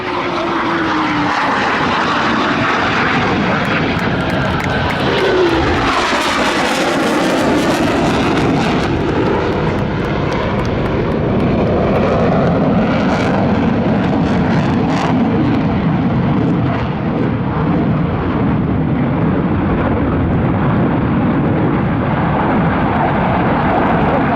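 Blue Angels jets roar past at an air show in Pensacola, a loud sustained engine rush that swells and shifts in pitch as the aircraft sweep by, continuous for the whole stretch with no talking.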